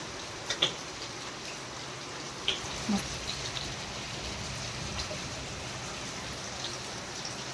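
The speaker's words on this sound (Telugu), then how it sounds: "నైట్ టైం వర్షం ఎట్లా పడుతుందో" Heavy rain pours steadily at night during a storm, a dense continuous hiss of drops on surfaces with a few faint ticks and knocks, close and unbroken throughout.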